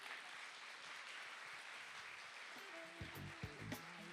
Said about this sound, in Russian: искупайте в овациях, пожалуйста,